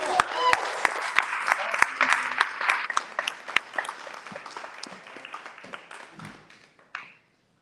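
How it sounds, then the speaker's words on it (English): Audience applause fills a book conference hall, dense steady clapping from a crowd that slowly thins and fades out near the end. "How about another round of applause for Ms."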